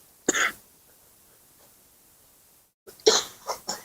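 Coughing at a board work session, two close, sharp bouts a few seconds apart, the second with several quick hacks, in an otherwise quiet room.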